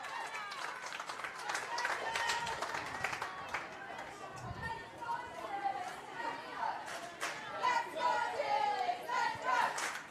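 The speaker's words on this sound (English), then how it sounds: "And the Australian crowd trying to help their team." An Australian crowd at a women's para football match between the CommBank ParaMatildas and Japan makes a continuous wash of cheering, chatter and scattered clapping that swells in bursts, with voices heard in the mix.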